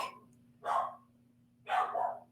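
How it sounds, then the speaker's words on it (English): Two close dog barks, each short and sharp, about a second apart, heard over a steady low electrical hum. "Sorry, my dogs."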